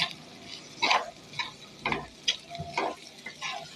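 Dried fish fry is stirred with pepper powder in a pan, giving a string of irregular scraping and clattering strokes of a spoon over a soft background sizzle.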